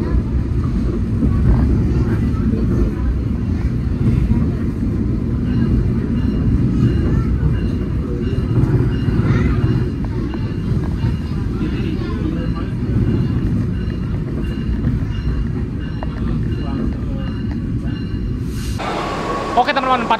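Onboard the Siliwangi train as it pulls away from Ciranjang station, a loud continuous low rumble of the moving cars with rhythmic rattling, and a sudden brighter burst of noise near the end.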